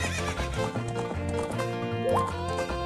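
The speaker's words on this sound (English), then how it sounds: "Prepare for extreme horse riding." Horse riding in the video game Zelda: Ocarina of Time, with steady clip-clop hooves and whinnying layered over the game's melodic background music.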